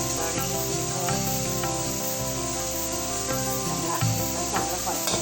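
Tomato, ginger, garlic, curry leaves and green chilli frying in a pan for a Malvani paneer biryani, a steady close sizzle with scraping stirs throughout and no talk.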